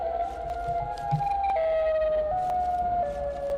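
The Siren Head creature in a horror video game gives a loud, continuous wailing siren, a steady tone that steps down in pitch in stages and carries on throughout, with nothing else over it.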